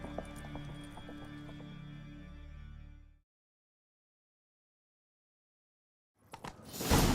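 A horse gallops in The Witcher 3 with rapid, rhythmic hoofbeats for about three seconds, then falls silent before a burst of other game noise returns.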